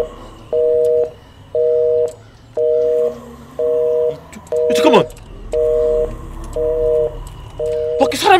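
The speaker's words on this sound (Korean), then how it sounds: "분명 여기서 전화 소리가 들렸는데." A telephone in a dark horror video game gives out a steady repeating electronic ring-like tone, eight evenly spaced beeps about a second apart, loud and close, while someone talks over it.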